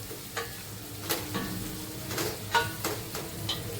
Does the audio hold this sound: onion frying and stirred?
yes